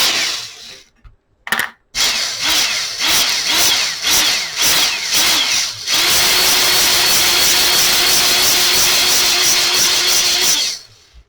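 A Ryobi P320 Air Strike nailer, just reassembled, runs with a loud close mechanical whir, first in short rhythmic pulses, then in a sustained steady burst before cutting off.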